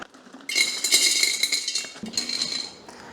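Rock sugar poured into a clean glass jar, a bright rattling clatter of hard lumps striking glass in two short bursts, close and fairly loud.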